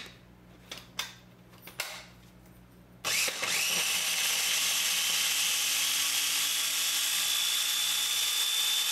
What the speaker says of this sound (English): or if you have a food processor,